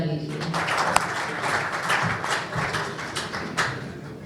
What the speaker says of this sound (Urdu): آپ لوگ اپنے لیے ایک دفعہ تالیاں بجا لیجیے.